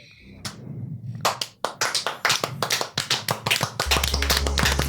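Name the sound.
people in a room clapping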